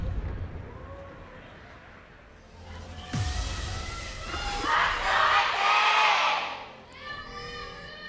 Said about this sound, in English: I actually think the Jin Air cheer was louder, LS.